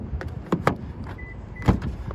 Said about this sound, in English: I can gain entry to the car just by grabbing the door handle